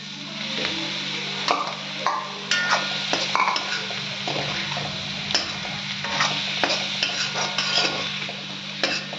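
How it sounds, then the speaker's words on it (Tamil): Chicken is sautéed with onions in a pan for a village-style dish, with a steady close sizzle and repeated scraping clicks from a spoon stirring throughout. "இப்போ சிக்கனை போட்டு இன்னும் கொஞ்ச நேரம் எல்லாத்தையும் சேர்த்து வதக்குங்க"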